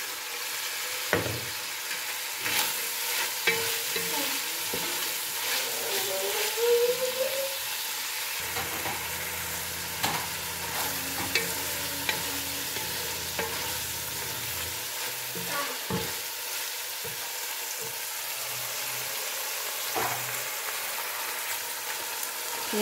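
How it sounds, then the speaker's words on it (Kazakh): Minced meat and onion frying in oil in a kazan for a Korean-style pigodi filling, a steady close sizzle and hiss with intermittent scraping and clinks of stirring, no voices. "Еттің үстінен"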